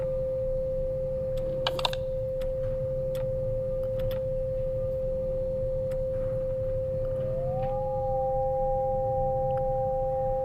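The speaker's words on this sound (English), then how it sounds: "so it is a sine wave" A steady pure sine tone holds throughout, joined near the end by a second tone that glides upward and then levels off, with scattered faint clicks and ticks over a low background hum.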